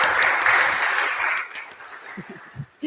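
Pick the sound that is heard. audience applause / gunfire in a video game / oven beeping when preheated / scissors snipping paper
audience applause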